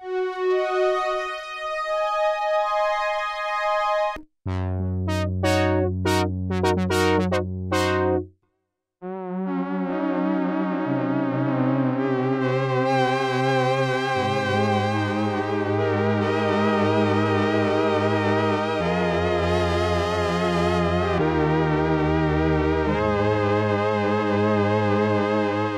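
The Sequential Trigon-6 analog synthesizer plays its factory preset 000, opening with a bright sustained tone, then punchy bass stabs and a brief gap before a swelling, modulated chord passage. It runs loud and continuous throughout, with no talking.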